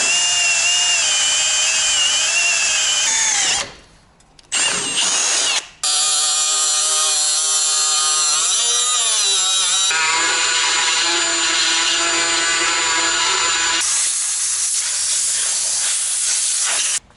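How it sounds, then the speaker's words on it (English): A die grinder fitted with a carbide burr trims a metal corner during a Cummins engine swap into a 6.4 Ford, giving a loud, sustained high-pitched whine with two brief drops in speed before running on steadily. "Do carbide burrs on a die grinder."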